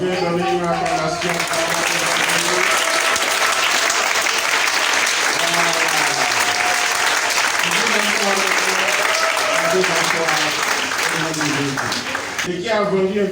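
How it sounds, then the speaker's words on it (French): Loud, sustained applause from a church congregation during a charismatic worship service, with sung and shouted voices riding over the clapping throughout before it thins near the end. "Tu peux donner une acclamation."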